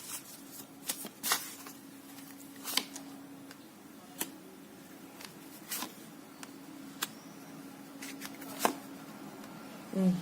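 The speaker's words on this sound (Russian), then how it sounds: "Еще буквально 3 карты выложу." Tarot cards are laid out one by one on a table: soft, sparse slaps and flicks scattered over several seconds, fairly close, with a faint steady hum underneath and no talking.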